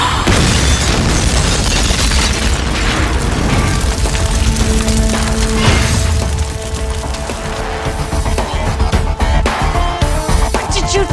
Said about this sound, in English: I'm only shooting the tires.